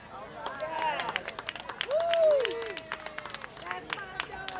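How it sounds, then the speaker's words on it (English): An audience applauds an author after her reading at an outdoor evening reading event. Steady, close clapping runs throughout, with a sliding whistle-like tone and voices rising over it midway. "A huge round of applause"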